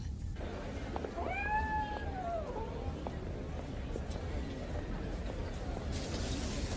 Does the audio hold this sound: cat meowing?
yes